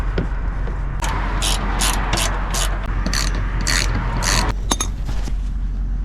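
Ratchet wrench tightening bolts on the skid plate of a 2015 Toyota 4Runner Trail during an oil change, producing repeated bursts of fast clicking with brief pauses between them, close and fairly loud.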